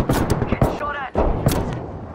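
Gunfire crackles in a match of the video game Apex Legends, dense bursts of shots and thuds packed closely together, with a voice speaking over the shooting.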